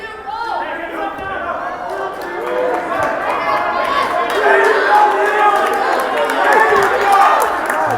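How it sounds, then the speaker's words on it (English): Large crowd at a high school wrestling match between Braintree and Weymouth, a steady roar of chatter and cheering that swells toward the middle, with an announcer's voice over it. "A big crowd here."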